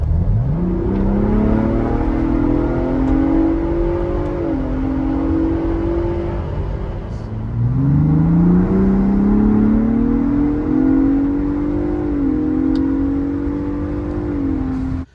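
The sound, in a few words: Ford Bronco Raptor accelerating in a pull from 35 mph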